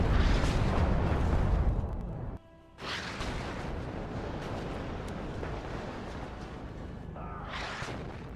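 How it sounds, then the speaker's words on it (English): Heavy artillery bombardment in the real-time strategy game WARNO rumbles continuously as dense, overlapping booms and explosions, dropping briefly to near quiet before the barrage resumes loudly. "And you see the artillery coming in"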